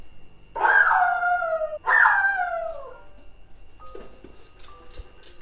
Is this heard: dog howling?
yes